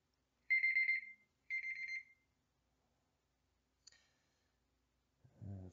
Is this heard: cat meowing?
no